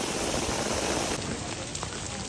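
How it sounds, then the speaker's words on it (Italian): Light rain falls on a Barcelona street, making a dense, even hiss of drops that stays loud and constant throughout. "sta venendo poca pioggia"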